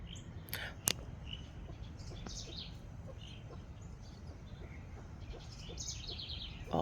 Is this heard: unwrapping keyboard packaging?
no